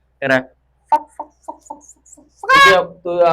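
A voice imitates a rooster crowing with a few short clucking syllables and then a drawn-out, strained crow, set amid animated talk.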